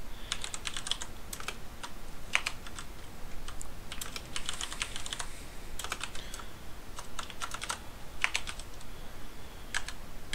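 Rapid keystrokes on a computer keyboard while Verilog code is typed into an editor, coming in close, crisp bursts separated by short pauses.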